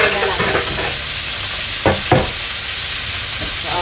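Food frying in a pan with a loud, dense, continuous hiss of hot oil, while a utensil stirs it with a few short scraping strokes near the middle.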